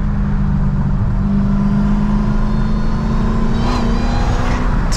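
A 914 bhp Dodge Hellcat American muscle car roars loudly from inside during a drive, its engine holding a steady, rising drone with a brief whining swell near the end.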